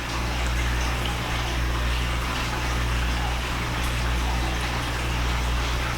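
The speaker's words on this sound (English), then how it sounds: "that's all that's going in here is what I'm pouring in right now" Liquid pours steadily into a crockpot of barbecue chicken, a continuous close wash of splashing that runs unbroken the whole time with no talk.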